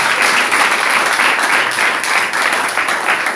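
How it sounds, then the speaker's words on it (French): Steady audience applause at an evening gathering of soldiers, dense and loud throughout with no break, a crowd of many hands clapping together. "Applaudissez-le pour moi."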